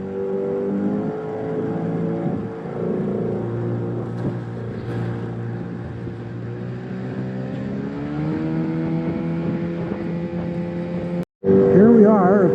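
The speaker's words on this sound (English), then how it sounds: "So here we go for a little ride across the lake." Motorboat crossing Paulina Lake, its engine droning steadily with gentle pitch rises as it speeds along, loud and close, with a brief drop-out near the end before the motor resumes.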